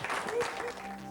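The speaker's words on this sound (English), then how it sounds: "A round of applause for Wayne." An audience at a business talk claps in a round of applause for a participant, a short dense burst of clapping with some voices mixed in, fairly close and steady.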